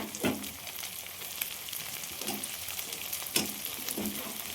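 Chopped tomatoes frying with onions and spices in a pan, a soft steady sizzle with occasional louder crackles and stirring scrapes, close and fairly quiet, no voices.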